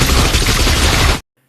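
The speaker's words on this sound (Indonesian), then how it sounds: "ia langsung melepaskan tembakan beruntun ke arah T-1000." A burst of rapid gunfire from a Terminator film scene aimed at the T-1000, a loud, dense, continuous volley that cuts off abruptly into silence.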